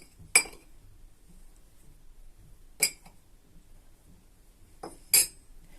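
Dry ingredients for chebakia stirred together in a bowl, heard as three sharp metallic clinks of a utensil against the bowl spaced a couple of seconds apart, close and clear with near silence between them.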